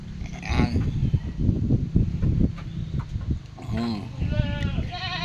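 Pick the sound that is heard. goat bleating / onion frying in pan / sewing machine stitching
goat bleating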